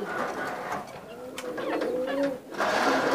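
A golden pigeon in a loft gives soft rolling coos, with other pigeons murmuring nearby and brief flutters; moderately close and fairly quiet.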